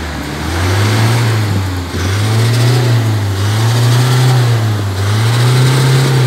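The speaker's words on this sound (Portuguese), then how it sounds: "Acelera, Messias." The diesel engine of a 2020 Toyota Hilux, under a dirty-diesel EGR cleaning job, revs repeatedly in long rising and falling surges, loud and close, with no talk.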